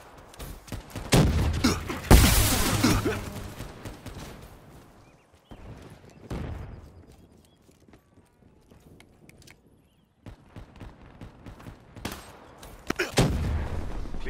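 A frag grenade blast and bursts of gunfire in a video game shooter come as loud, sharp clusters separated by quieter stretches, ending in another heavy burst.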